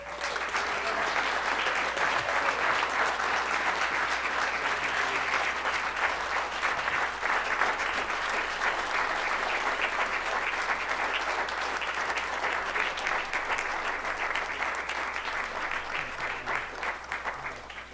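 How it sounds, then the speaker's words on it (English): A city council audience breaks into sustained applause, a dense steady clatter of many hands clapping at even loudness from start to finish, with no talking over it. "I'd like to have us join in a round of applause for Mr. Ron Thompson."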